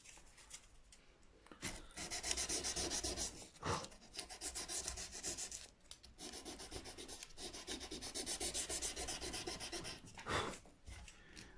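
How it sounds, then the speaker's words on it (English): Guitar frets on a Westfield Strat are polished to remove tooling marks, a steady rhythmic rasping rub in repeated strokes with brief pauses between passes, close and fairly quiet, no talking. "It's just really removing tooling marks, and then I'm going to scrape the fingerboard down after polishing the frets"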